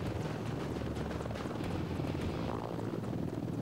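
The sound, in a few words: helicopter flying along the Atlantic coast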